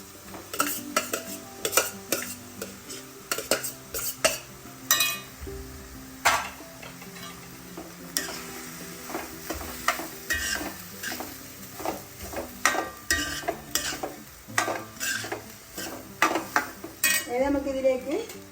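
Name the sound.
stirring kadala uppumavu with rice in a pan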